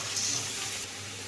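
Water pours steadily into a pot of simmering red lentil and Malabar spinach curry, a soft continuous hiss and gush lasting about a second at moderate level, with no talk.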